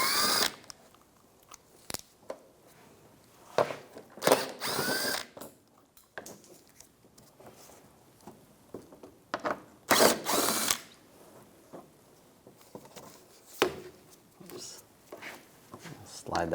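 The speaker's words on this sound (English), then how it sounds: "Using a 10mm socket, take all these bolts out." A ratchet fitted with a 10mm socket removes bolts from the front end of a 2004-2009 Toyota Prius, producing repeated bursts of close, sharp clicking and mechanical rattling between pauses, with someone talking at intervals.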